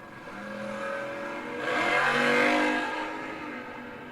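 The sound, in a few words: drag racing cars accelerating, including an 86 Camaro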